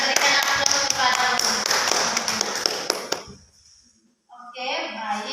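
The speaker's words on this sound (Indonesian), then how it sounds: "Kita berikan aplaus kepada" A classroom audience claps after a student's presentation, a burst of quick scattered hand claps that fades into a short silence before voices resume.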